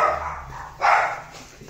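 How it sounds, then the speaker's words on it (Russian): A dog outdoors on a street barks twice, a sharp bark at the start and another loud one just under a second later, fairly close, with no talk over it. "Собака как гавкает."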